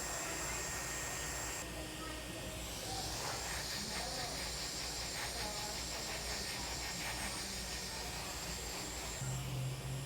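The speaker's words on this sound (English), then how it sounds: "I'm actually gonna be utilizing my leg to blow dry my topper" A hair dryer blowing steadily on a hair topper, a continuous airy hiss that holds through the whole stretch at a moderate, even level.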